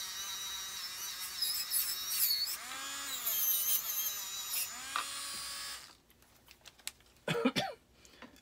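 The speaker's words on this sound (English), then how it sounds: "I'm gonna go to my disc sander. This is a 600 grit. Turn it up to about 6." A 600 grit disc sander runs with a steady high whine and harmonic drone for about six seconds, used for polishing a silver spoon piece, then cuts off, leaving brief scraping and handling noises.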